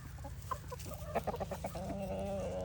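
Chickens cluck softly and repeatedly nearby over a low steady background hum.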